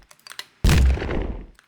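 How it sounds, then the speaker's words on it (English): A pitched-up cannon blast, a single sharp boom with a bright crack that rings out and decays over about a second, preceded by a few faint ticks. "So yes, it's a cannon pitched up."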